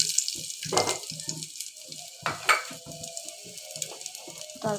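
Chopped garlic and ginger sizzling in a pan while being stirred for a chicken stew, a steady hiss broken by close scraping and clattering stirs in uneven bursts.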